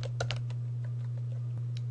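Computer keyboard typing a network command in a firewall setup session, a quick cluster of clicky keystrokes at the start and a few sparse taps after, over a steady low electrical hum, no talk.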